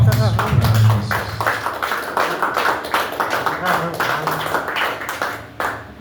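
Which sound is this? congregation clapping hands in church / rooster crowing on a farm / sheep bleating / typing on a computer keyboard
congregation clapping hands in church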